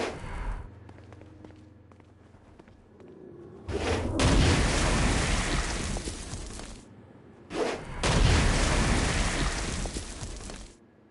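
Two heavy blasts from the Stone Blast attack in Saints Row: Gat out of Hell, each a loud, broad burst lasting a few seconds with a rumbling tail, separated by a quieter stretch of low background game noise.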